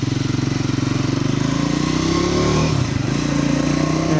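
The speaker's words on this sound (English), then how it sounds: "this bike just shifts so well. Just a very positive shifting transmission." A 2026 Triumph 400 XC single-cylinder motorcycle under way, its engine drumming with a steady rapid pulse that rises in pitch, dips briefly at a gear change near the three-second mark, then climbs again, loud and close.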